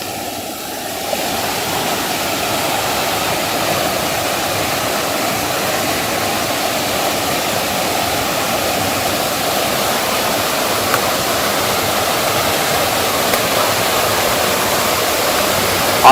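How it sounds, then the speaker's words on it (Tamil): Steady, loud rush of a stream fed by a waterfall near Chinna Suruli, a continuous broadband roar, unchanging throughout. "அருவியிலிருந்து விழுற தண்ணி தான் இங்க ஓடி வருது"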